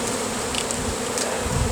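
A dense swarm of bees drones steadily during the removal of a large beehive, a loud, continuous close buzz that stays even throughout.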